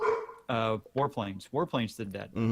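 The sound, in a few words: dog barking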